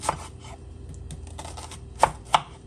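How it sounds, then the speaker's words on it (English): Onions being chopped on a board, a few soft knife taps followed by two crisp, close chops near the end, with no talking. "Let's just chop up the onions up first"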